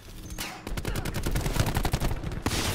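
Rapid gunfire in the shooter Call of Duty Black Ops 4: a dense string of close, loud, evenly spaced shots that briefly pauses and then resumes, with no talking.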